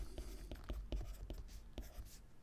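A pen scratches across paper in short, quiet, rhythmic strokes, close by, while writing out a geometry answer.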